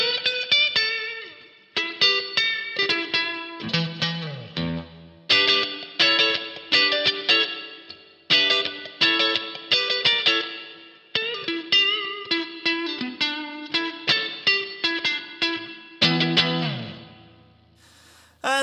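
Heavily distorted electric guitar through a vintage amp simulation plays chopped chords and riffs in repeated bursts, washed in reverb, loud and close with short pauses between phrases.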